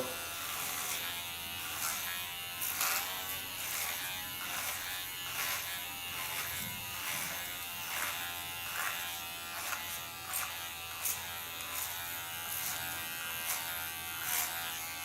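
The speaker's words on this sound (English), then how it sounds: "This I make nice ultra short. Using my Kione large clipper." A large Kione hair clipper buzzes steadily up close while cutting hair ultra short, its motor hum rising and dipping in a regular rhythm of repeated strokes through the hair, with no talking.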